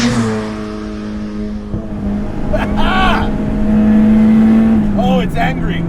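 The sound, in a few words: turbo Honda Del Sol engine revving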